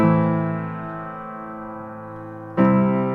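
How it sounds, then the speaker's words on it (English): A sustained piano chord rings out and slowly decays, then a second chord is struck near the end, bright and full. "So here's my piano track."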